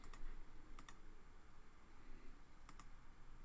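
A test label being typed on a computer keyboard: a few faint, crisp key clicks in small clusters near the start and end, over steady low background hiss, with no talk.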